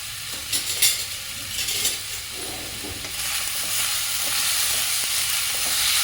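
Chopped onion, ginger and a few garlic cloves dry-roast and get stirred in a hot wok with no oil, giving a steady, fairly loud hiss and scraping that builds slightly toward the end, with no voices.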